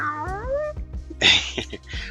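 A person imitates a cat with a rising, drawn-out meow, followed by a shorter, harsher yowl, close and fairly loud.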